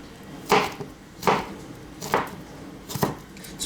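A sharp knife chops through a tomato on a board for chicken curry, four distinct close cuts at an even, unhurried rhythm with short pauses between them.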